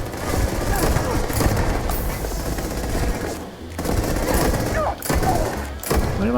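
Rapid automatic gunfire from the Regulator weapon in the Starfield video game rattles in continuous bursts with brief gaps, dense and close, along with game effects.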